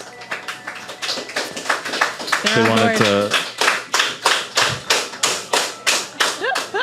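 After a few spoken words, a person at a conference interview claps in place of a laugh track: a long run of regular, sharp hand claps, close and evenly paced, with brief voices mixed in near the start.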